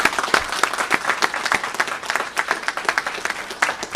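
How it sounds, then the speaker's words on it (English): Audience applause at a trade minister's defence industrial plan event in Waterloo, Ontario: a dense, steady burst of many hands clapping, fairly close and sustained for about four seconds, with no talk over it. "A big round of applause for her, please."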